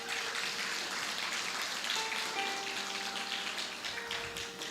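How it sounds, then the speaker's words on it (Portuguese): A church congregation applauds together during a Baptist service, a steady wash of many hands clapping at a moderate distance for several seconds, with a faint sustained tone running underneath. "Você pode aplaudir ao Senhor nessa noite?"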